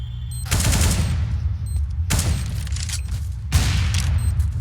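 Gunfire in a tactical shooter video game, with shots fired into smoke during a bomb round: three loud, sharp bursts of rapid shots over a steady low rumbling game background, with no talking.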